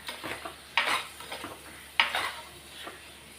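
Vegetables being sautéed in a pan for a kulambu, with two sharp clinks of a spoon stirring against the pan and a faint background sizzle, close and otherwise quiet.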